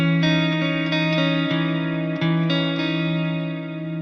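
An E-shape guitar chord with added sixth and seventh rings out sustained and close, with a few restrikes and a chorus-like shimmer, alone without voices.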